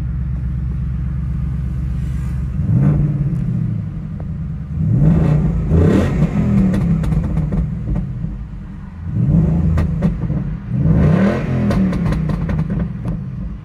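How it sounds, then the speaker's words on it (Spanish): Ford Mustang Bullitt special edition engine revs hard in repeated bursts, a deep rumbling V8 roar that rises sharply, drops back, and surges again several times, loud and close with no talking. "Vamos a darle un acelerón."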